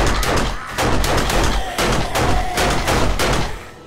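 Pistol shots in 7 Days To Die, a quick run of loud, closely spaced reports with brief gaps between them, firing steadily for several seconds before trailing off.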